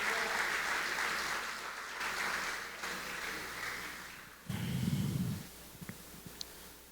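Church congregation applauding during an evening service, a steady wash of clapping that fades after a few seconds, followed by a low rumbling noise and a few scattered sounds.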